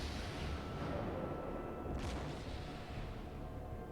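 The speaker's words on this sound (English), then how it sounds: "Heavy fire coming in on that guy." Naval gunfire in a warship video game, a dense, continuous rumble of heavy cannon blasts and booms from battleships under fire, loud and unbroken, with a brief hiss near the middle.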